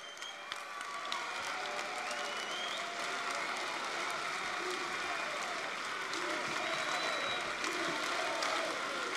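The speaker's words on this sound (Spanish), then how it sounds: "no es a Julio, aunque está muy bien que le aplaudamos" Crowd applause fills a political rally for Unidos Podemos in Almería, a dense, sustained clapping from a large audience that holds steady throughout at moderate distance.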